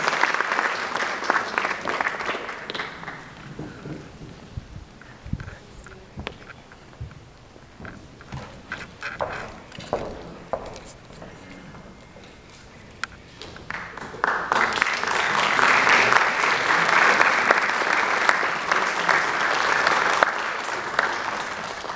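An audience at a Turkish lifetime achievement award ceremony applauds as an award presenter is invited to the stage. Scattered claps and an announcer's voice give way to a full, loud, sustained burst of applause in the second half.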